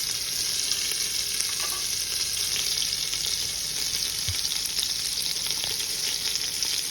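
Cumin seeds, a tablespoon of them, sizzle and crackle steadily in hot oil alongside ginger-garlic paste in a pan for egg and vegetable fried rice; a dense, even hiss runs continuously without talk.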